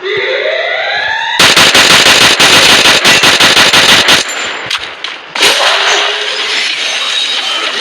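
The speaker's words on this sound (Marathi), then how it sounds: "कळालंच नाही कोण कुठून फायरिंग करतो" Loud automatic gunfire in the Free Fire video game: sustained rapid bursts in the middle, then scattered shots and another burst, preceded by softer game ambience with rising tones.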